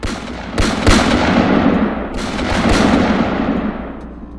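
Rapid gunfire from a gun being emptied, a dense burst of loud, echoing shots in quick succession that rolls on with two heavier surges, close and reverberant like a staged horror-story sound effect, with no voices over it.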